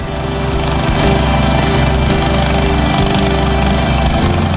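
Bore well being drilled by Brimob police personnel of North Sumatra at a displacement site in Central Tapanuli, a loud continuous mechanical engine drone with a rough, pulsing texture and no voices.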